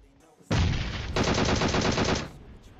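Loud automatic gunfire in the mobile video game PUBG Mobile: a short burst, then a longer sustained rapid-fire stream lasting about two seconds before cutting off, with no speech over it.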